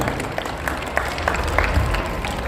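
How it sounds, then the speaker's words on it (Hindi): At a school Republic Day celebration, schoolchildren clap together in a crowd, producing a steady, dense patter of many small hands close by with a murmur of voices underneath. "बच्चे ही ताली बजाएं"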